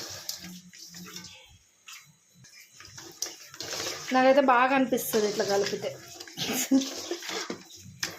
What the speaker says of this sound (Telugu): పక్కన అత్తమ్మ ఇంకా చేపలు కడుగుతుంది